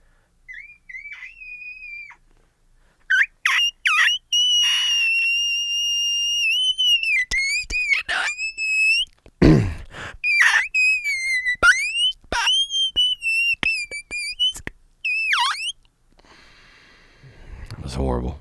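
Someone speaks in a whistle-register falsetto, a string of thin, very high squeaky vocal tones in short bursts with pauses, loud and close, imitating a cartoon voice.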